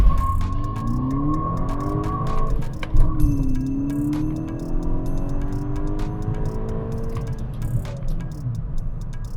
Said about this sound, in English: Yeah, got quite a bit of wheel spin on that one.